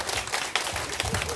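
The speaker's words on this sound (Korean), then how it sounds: "다시 한번 박수 한번 주세요" Audience at a live Korean troupe performance clapping together, a dense, steady patter of many hands that continues throughout without pause, fairly soft and slightly distant.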